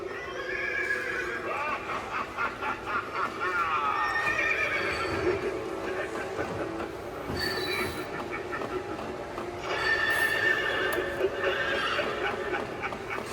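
A Halloween animatronic horse ridden by a headless knight neighs and whinnies in drawn-out, wavering calls, with clip-clop and mechanical rattling underneath, loud and close.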